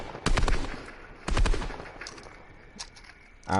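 Gunfire in the Fortnite video game comes as two quick bursts of rapid close shots about a second apart, followed by fainter scattered reports and another shot starting at the end.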